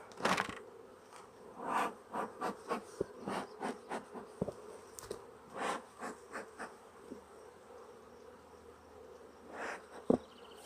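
Honeybees at a hive being worked with a smoker, a soft insect hum broken by a string of short, fairly close bursts and puffs that come and go in uneven rhythm.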